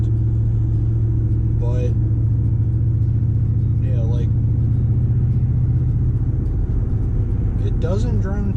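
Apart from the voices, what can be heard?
V8 truck engine rumbling through aftermarket exhaust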